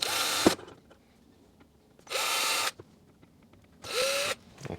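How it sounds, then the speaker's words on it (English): Three bursts of a power drill drilling holes in a Frigidaire mini fridge for a thermostat, each about half a second long, separated by short quiet gaps with faint handling noises. "Now it's time to drill."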